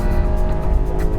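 A 2014 Volkswagen Tiguan 4Motion accelerates hard from a launch, its engine roaring loud and continuous with tire and road noise close by.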